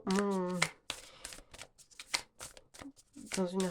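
A Rhythm and Soul tarot deck is shuffled by hand up close, with soft, quick riffling and sliding bursts that come and go between stretches of someone speaking.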